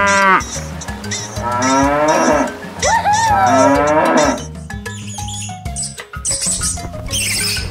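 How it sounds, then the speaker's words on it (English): A cow moos loudly in long, drawn-out calls close by, heard alone against a backdrop of bright cartoon-style effects in an animal transformation sequence. "Cow."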